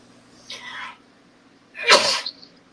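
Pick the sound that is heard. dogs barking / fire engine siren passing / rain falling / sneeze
sneeze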